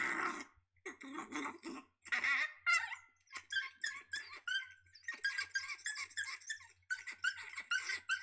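High-pitched yelping and squealing cries from a coyote pup, a recorded distress call, repeated in rapid frantic bursts with short gaps between them.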